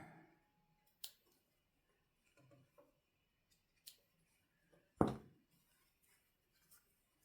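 Scissors snip apart pieces of quilt fabric from a nine-patch block. A handful of separate, crisp cuts sound close by in a quiet room, with one louder snap partway through.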